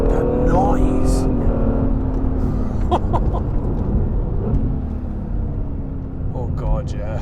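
A Honda NSX engine pulls hard while being driven fast, a steady loud drone with rising pitch sweeps and a brief dip near the end, talk scarcely audible over it.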